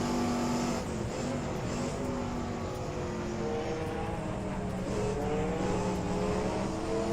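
Group C race cars roar along a track in a racing game, engines droning loud and continuous with shifting pitch as they pass under a bridge into a technical section.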